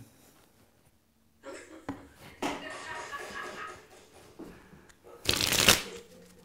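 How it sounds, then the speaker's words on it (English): A deck of playing cards being shuffled in a Russian shuffle: soft riffling and flicking bursts, ending in a louder, crisp riffle up close. "it's called a Russian shuffle"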